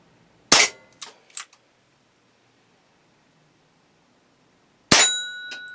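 An Umarex Smith & Wesson 586 air pistol fires a few sharp cracks, then after a pause a pellet strikes a metal bell target with a loud clang that rings on with a bright, sustained tone.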